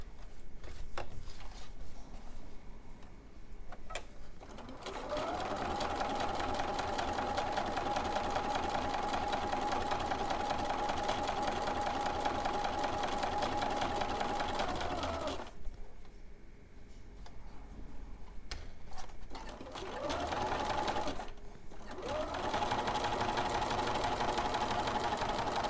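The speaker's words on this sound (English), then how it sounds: "line those up, and again, just sew your 1/4 inch seam" A sewing machine runs long, steady stretches sewing a quarter-inch seam on quilt triangles, its whirring motor close and even, with a pause and a short restart near the end.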